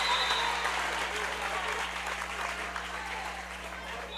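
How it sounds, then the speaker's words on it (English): Crowd at a Mason vs. Sycamore high school volleyball match cheering and applauding steadily after a point, a broad wash of clapping and shouts throughout with a constant low hum underneath. "There's a lot of cheers and congratulations from the crowd after that one."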